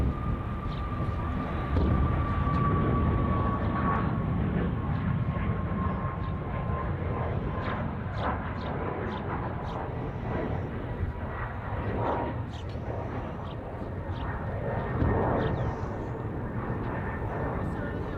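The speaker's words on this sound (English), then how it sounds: "There's this Norwegian 737 off to Prague, now departing off runway 22 left." A Norwegian Boeing 737 jet departs from Copenhagen Airport, its engines a broad, sustained roar that swells and rumbles across the whole stretch, heard from a distance.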